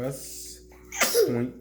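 A sharp sneeze bursts out near the microphone inside a truck cab, cutting in after someone speaks briefly; a short breathy tail follows.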